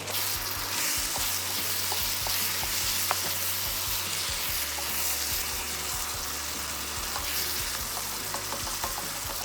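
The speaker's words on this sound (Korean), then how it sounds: "요 기름에 한 번 더 볶아준 다음에 전체적으로 섞어주려고 합니다" Chunjang black bean paste stir-frying in oil in a pan for homemade ganjjajang, a steady dense sizzle with scraping stirring strokes throughout, close and alone.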